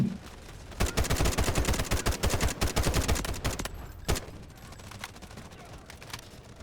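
Gunfire in the video game Delta Force Hawk Ops: dense, rapid bursts of automatic shots crackle loudly for several seconds, then thin out into scattered, quieter shots.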